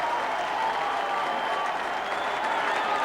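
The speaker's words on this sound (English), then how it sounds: "The crowd here, the Melbourne crowd, are loving every moment of it" A large Melbourne crowd at a 1986 VFL football match roars and cheers after a goal, a loud, dense, sustained wall of noise from start to finish.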